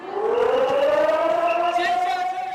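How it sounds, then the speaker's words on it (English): Civil defense air raid siren wailing through city streets in Taiwan during an annual air raid exercise, a steady rising tone that carries at moderate distance throughout. "Sirens sounding on the streets of Taiwan Monday as troops kicked off the week with an annual air raid exercise"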